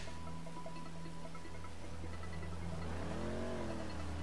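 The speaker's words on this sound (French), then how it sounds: "j'ai entendu peut-être une voiture assez puissante" A powerful car engine in Grand Theft Auto V hums steadily under game ambience, then revs upward in a brief rising whine, moderately loud and alone without talk.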